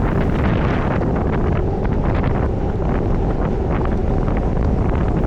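Constant loud headwind roaring across the microphone while cycling in a cyclo-cross race, a steady broadband rush with no pauses and no voices.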